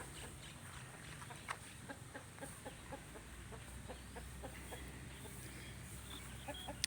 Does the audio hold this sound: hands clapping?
no